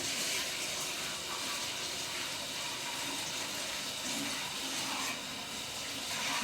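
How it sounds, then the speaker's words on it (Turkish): Steady running tap water pours continuously while hands are washed in a home kitchen, a close, even wash of water with no talking. "Ellerimi yıkayayım."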